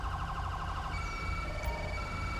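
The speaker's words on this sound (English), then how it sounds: "I think I forgot to disable the ambulance sound" Ambulance-style siren from an emergency vehicle in a police patrol video game mod, steady wailing and warbling tones sounding continuously, loud and close, with no talk over it.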